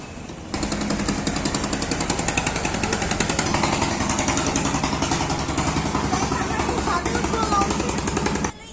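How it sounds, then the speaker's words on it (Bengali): A river launch engine runs steadily on a crossing from Sadarghat, a loud continuous diesel rumble with a rapid rhythmic chug that starts abruptly and holds at constant level throughout. "ইঞ্জিন লঞ্চে"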